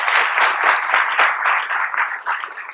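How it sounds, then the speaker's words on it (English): Applause from a theater audience at a civic storytelling event, a steady crackle of many hands clapping close by, rising and falling slightly over a few seconds. "Can we give her a round of applause?"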